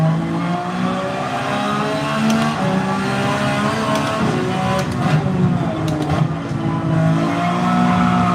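A GT3 race car accelerates around Trial Mountain in a racing video game, its engine loud and close, sustained and climbing in pitch over a steady drone, with faint tire squeal.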